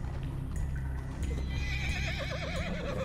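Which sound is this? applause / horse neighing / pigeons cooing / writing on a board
horse neighing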